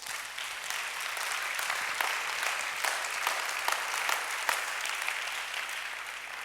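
An audience in a church assembly applauds to acclaim their king, with sustained dense clapping from a large crowd, steady and fairly loud throughout, no clear talking.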